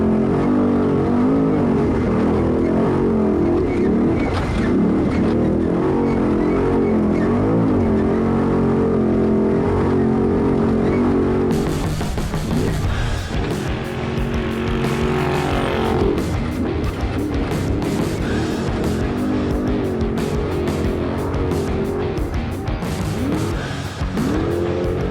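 A TSCO Gen3 trophy truck races in Baja, its engine roaring loud and close throughout, with revving surges, tire noise and rough gravelly bursts after the midpoint as it hits the dirt.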